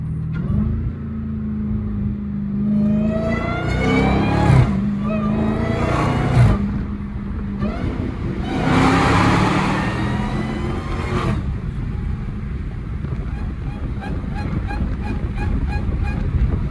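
A Dodge Hellcat with its hood off revs hard and downshifts, engine pitch climbing and dropping in several loud, close sweeps before settling into a rough idle.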